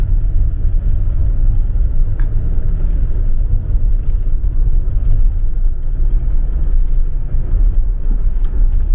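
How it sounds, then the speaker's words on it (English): A Leisure Travel Freedom motorhome on the road gives a steady, loud low rumble of engine and tires from inside the cabin, constant throughout with faint rattles and no voices. "I'm going to do all kinds of driving here. I'm going to do slow driving, and I'm going to do sort of more aggressive quick driving"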